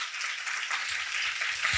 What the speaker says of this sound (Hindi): तालियां हो जाए इस बात पर।